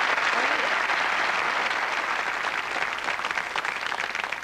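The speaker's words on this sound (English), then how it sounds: "Give them a nice round of applause." Studio audience at a television darts game show applauding steadily and loudly, a dense wash of clapping filling the whole stretch without a break.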